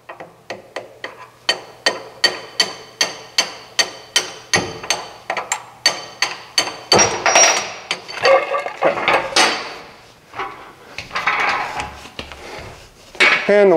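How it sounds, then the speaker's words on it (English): A hammer striking a drift to drive a pin out of a dock leveler, a long series of steady, ringing metal blows close up, followed by scraping and clattering metal handling. "we take a hammer and we drive that pin out with a drift across the other side of the dock leveler"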